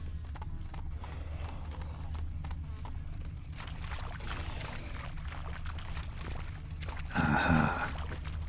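Hooves of Roach, a horse in The Witcher 3 video game, clip-clop at a slow, even walk, close and steady. Near the end the horse gives a loud whinny.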